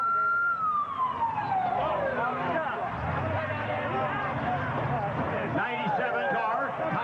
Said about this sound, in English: at the sound of the siren